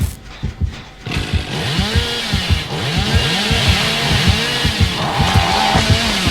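A chainsaw in Dead by Daylight Mobile revs repeatedly in rising, falling whines, a dense run of swooping engine pulses after a few short bursts, loud and close.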